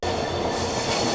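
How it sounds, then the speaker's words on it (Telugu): A long goods train hauled by five engines rolls past near Dudhsagar Waterfalls, a loud, close, unbroken rumble of wheels and wagons with faint squeal and clatter mixed in. "ఈ ఒక్క గూడ్స్ ట్రైన్కి గుంజనికి 5 ఇంజన్స్ ఉన్నాయి"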